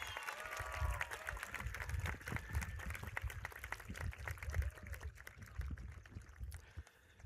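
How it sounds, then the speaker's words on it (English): Scattered applause from a high school commencement crowd sounds faint and distant, with crisp individual claps over a low rumble. It continues for several seconds and thins out at the end. "How about another round of applause for Isaac and Ashlyn?"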